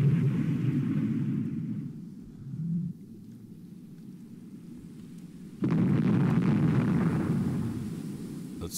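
Naval gunfire from a warship battle against destroyers in the Rule the Waves II strategy game rolls out as deep rumbling booms, one sustained blast fading, a lull, then another heavy surge of low roaring fire.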